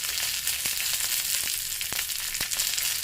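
Shallots, dried red chilies and curry leaves fry in hot oil, giving a dense continuous sizzle close by, broken by a few sharp crackles and pops, with no voices.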